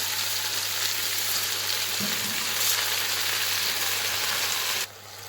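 Rice goes into a pan of sizzling fried beef and softened tomatoes for pulao, with a loud, even crackling sizzle that drops suddenly quieter near the end.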